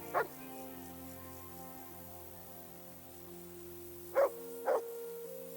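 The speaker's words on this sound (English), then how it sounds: "Sit and bark." A dog in Kingdom Come Deliverance 2 barks on command: one short bark at the start, then two quick barks near the end over a quiet steady background hum.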